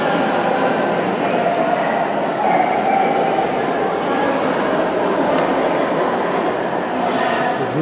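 Dog barking and yipping at an Afghan hound championship show, scattered barks and whimpers within a busy, noisy indoor hall with voices throughout.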